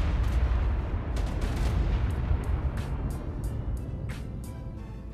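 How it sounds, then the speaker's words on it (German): Explosions strike player-built structures in ARK: Primal Fear on the Tunguska map, a dense low rumble with scattered sharp impacts and crackling debris hits, loud and sustained throughout with no talk. "Die Explosion kam von hier hinten?"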